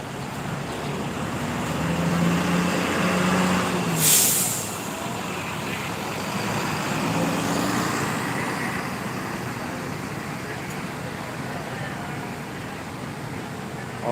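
A bus pulling away at a crowded bus terminal: a low diesel rumble with a brief hiss of released air brakes, amid steady outdoor traffic noise.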